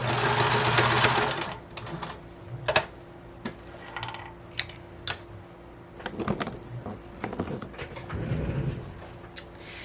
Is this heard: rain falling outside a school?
no